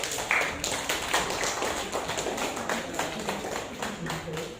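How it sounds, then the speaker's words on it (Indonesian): Scattered clapping from a class of students, quick and uneven, with voices talking over it throughout. "Tepuk tangan."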